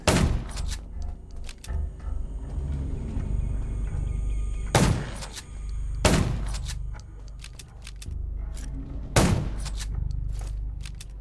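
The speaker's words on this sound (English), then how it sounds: "Gunshots will attract more zombies." Several loud, sharp gunshots ring out at spaced intervals over a low rumbling background of game ambience in the PC game Undawn.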